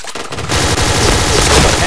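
Rapid automatic gunfire from the first-person shooter Point Blank, a loud, dense burst of closely spaced shots running continuously with no pauses.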